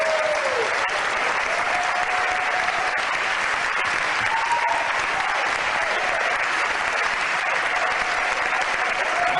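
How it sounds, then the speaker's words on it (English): A Brooklyn crowd applauding continuously, a dense steady roar of clapping filling the space, with faint cheers and whoops rising through it. "We have a spirited crowd in Brooklyn."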